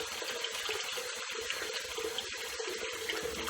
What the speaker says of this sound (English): shampoo and hair pieces in my sink here. I'll rinse that off